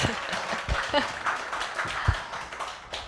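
Scattered audience applause at a live startup demo day, a thin patter of clapping with a few sharper taps and some faint laughter and chatter mixed in, moderate and somewhat distant.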